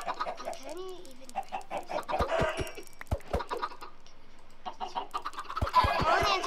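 Chickens in the Minecraft video game cluck in a series of short, quiet calls, mixed with sharp clicking sounds.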